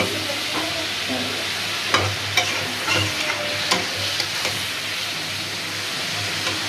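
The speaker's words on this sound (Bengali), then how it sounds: "সুন্দর করে একটু ভাজা ভাজা হোক, তারপরে মশলা দিই।" Shrimp sizzle steadily in a hot pan, a constant frying hiss broken by a few sharp clicks and scrapes of stirring.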